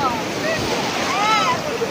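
Big waves at Puri beach wash and roar in a steady, broad surge mixed with wind buffeting the microphone, while faint voices and shouts rise over it.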